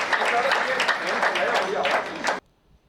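An audience at a Hindi poetry recital claps in a dense burst of applause for about two and a half seconds, then stops abruptly.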